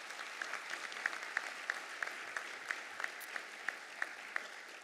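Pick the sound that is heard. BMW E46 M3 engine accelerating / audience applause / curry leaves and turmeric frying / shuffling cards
audience applause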